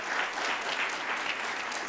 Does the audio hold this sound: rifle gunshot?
no